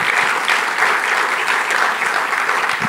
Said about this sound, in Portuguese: Aplauda aí a Jesus.